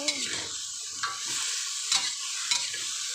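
Eggplant is stir-fried in plenty of hot vegetable oil. A steady bright sizzle carries throughout, broken by several quick scraping stirs of the spatula against the pan.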